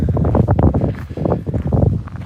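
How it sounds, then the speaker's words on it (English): Wind on Kizhi Island on Lake Onega in Karelia buffets the microphone in loud, low, irregular rumbling gusts that surge, dip around the midpoint, then rise again, with no clear speech over it. "Sounds windy."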